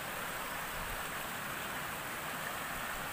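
A river on a mountainside flows with a steady, even rush of water, faint and unbroken, with no voices.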